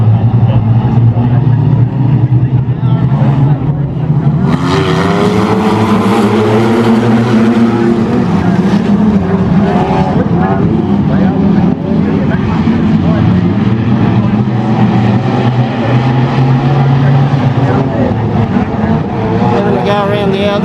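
Wingless sprint cars and a pace car on a speedway oval at Horsham, a loud continuous roar of engines droning and surging throughout, with voices faintly under the racket.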